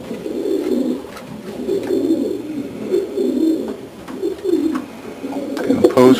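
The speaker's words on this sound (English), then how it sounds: "A nice pigeon." A dark check Janssen racing pigeon coos close by in a loft, a series of soft low throaty coos repeating over several seconds with a brief rustle at the end.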